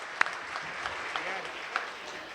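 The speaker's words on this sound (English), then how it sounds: "Can we get both of them a very nice round of applause?" Banquet audience at a sports hall of fame dinner giving a round of applause, a short burst of close, fairly faint clapping with a few sharper claps standing out.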